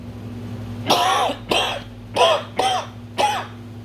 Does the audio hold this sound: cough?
yes